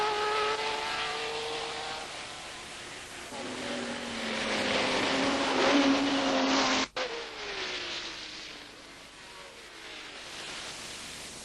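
Porsche and Alfa Romeo race cars of 1971 roar past on the circuit, engine notes rising and falling in pitch as they sweep by loud and close, then fading into distance after a brief cut.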